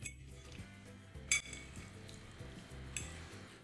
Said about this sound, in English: let's give it a stir then.